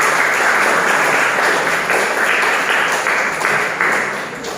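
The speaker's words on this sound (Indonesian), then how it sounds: "Tepuk tangan sebelumnya dulu, tepuk tangan untuk kelompok 3." In a classroom, students give a group a round of sustained applause, dense clapping that gradually tapers near the end.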